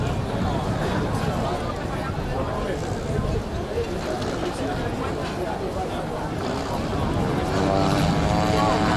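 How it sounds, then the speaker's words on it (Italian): An amphibious aircraft at an air show in Jesolo revs its propeller engine for takeoff, a loud continuous drone that rises toward the end, with a voice talking over it. "Motore ridecolla."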